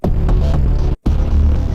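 Layered synth pulses from a Keepforest plugin throb in a dense, loud low-heavy drone, pausing briefly near the middle before resuming at full strength, with no talk.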